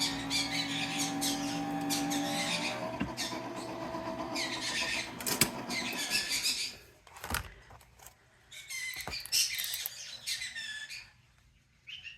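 Birds squawk in loud, close, repeated bursts, with a steady low hum beneath the first half and quieter gaps between calls.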